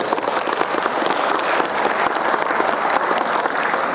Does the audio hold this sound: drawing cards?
no